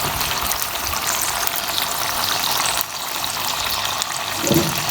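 Two kilograms of chicken frying in a handi, a steady loud hiss and crackle of hot oil that runs without break, with a brief stirring scrape near the end.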